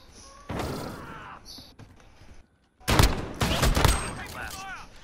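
Shotgun blasts ring out in Call of Duty gameplay, a burst of loud, sharp gunfire clustered with rapid clicking, then a brief lull before another heavy volley of shots and echoing reports.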